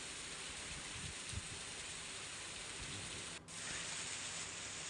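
Heavy rain pours over Junagadh city, a dense, steady hiss with no talk and a brief dip near the end.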